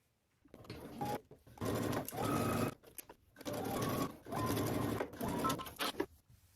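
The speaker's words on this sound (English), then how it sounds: "now you're just going to go ahead and stitch down your collar using 5/8 of an inch seam allowance" A sewing machine stitches down a garment collar at a 5/8 inch seam allowance, running in four or five close, steady bursts of whirring with brief stops between them.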